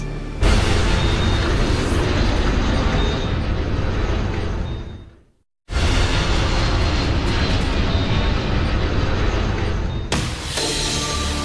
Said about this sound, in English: An NBC News crew captures a small plane spiraling to the ground after it has collided half a mile up with a much larger 727.